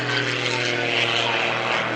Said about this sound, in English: Pulls over the top, pulls it inverted, tumbles the airplane, tail over nose, nose over tail